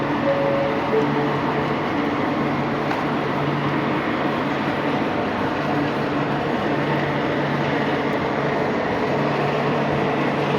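A Moscow–Simferopol passenger train departs and rumbles steadily past at close range, a continuous loud roar of wheels and carriages with faint tonal hums.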